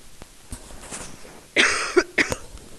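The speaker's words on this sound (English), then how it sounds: "Sorry about the cough." A single person coughs a few times in quick succession, close and fairly loud, with short sharp bursts in an otherwise quiet room.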